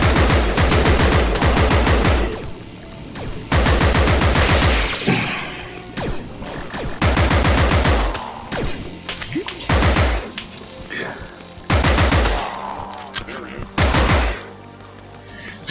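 Bursts of loud, rapid automatic gunfire in the 2021 VR shooter Compound come in several clusters with short pauses between, close and punchy, joined by a few crashes and impacts.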